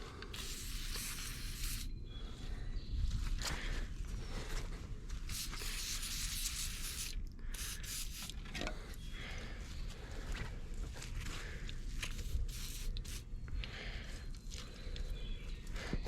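Lubricant sprayed from a can onto the rusted cable housing of a free 1970s Hatz diesel roller compactor, a steady close hiss running continuously with brief breaks and faint handling noises.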